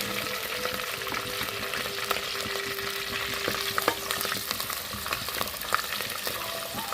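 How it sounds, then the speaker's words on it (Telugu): Ginger garlic paste sizzles and fries in a pan for several seconds, a steady close crackle broken by occasional scrapes and stirring clinks, with no voices. "పచ్చి వాసన పోయేదాకా వేయించుకున్నాము."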